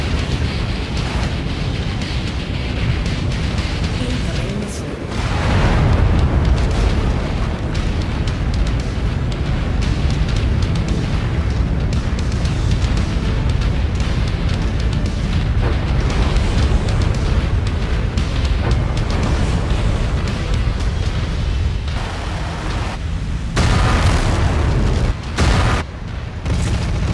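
Incoming missile strikes in the mech combat game MechWarrior 5: Mercenaries, heard as a dense, continuous rumble of heavy booms and blasts lasting nearly half a minute, loud and close, with a few abrupt breaks near the end.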